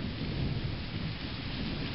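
Steady rain pouring down, a dense continuous hiss with a low rumbling undertone, sustained and loud for the whole moment with no talking.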